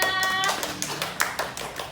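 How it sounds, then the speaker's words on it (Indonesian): Audience clapping to welcome a guest at a casting event, a short scattered burst of claps with some louder individual hand slaps, fairly close, thinning out toward the end. "Beri tepuk tangan semuanya."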